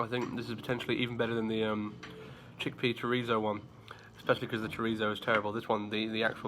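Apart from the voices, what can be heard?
None of the usual background noises is heard.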